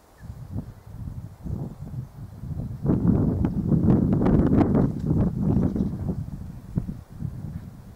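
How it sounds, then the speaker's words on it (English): Wind blows outdoors and buffets a camera tripod, making irregular low rumbling gusts and bumps that swell through the middle and then ease off. "I can see the wind shaking the tripod a little bit."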